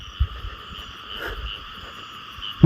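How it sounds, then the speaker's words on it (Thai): Frogs croak in a rural Thai wetland at night, a few low, rough calls repeating over a steady insect drone, close and fairly clear, ending with a sharp handling noise. "เสียงกบพี่น้อง"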